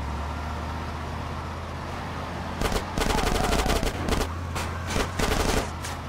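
A car chase in Grand Theft Auto Definitive Edition brings machine-gun fire from behind the car, with loud rapid bursts that start partway through over steady engine and road noise.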